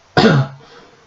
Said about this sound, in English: Firefly took a moment to clear her voice and perform a fake cough.